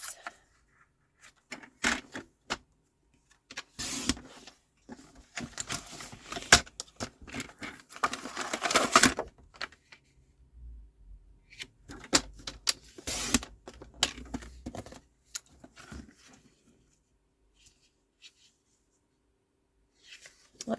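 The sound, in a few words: cutting a section of card design paper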